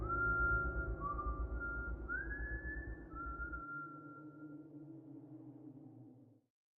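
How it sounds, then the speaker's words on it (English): A person whistles a wavering tune, a few drawn-out notes gliding up and down over a low hum that cuts off, leaving fading resonance. "don't whistle at night"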